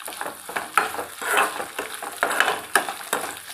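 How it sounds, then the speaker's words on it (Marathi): Finely chopped onion sautéing in hot oil for soya chunk fried rice, a steady sizzle broken by repeated scraping strokes of a spatula against the pan, close and fairly loud with no voices. "बारीक कट केलेले कांदा, त्याला छान परतून घ्यायचं।"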